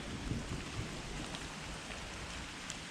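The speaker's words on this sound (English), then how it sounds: "We've just had a clap of thunder then." Steady rain beside an old disused canal, with a low rumble of thunder rolling underneath, no voices.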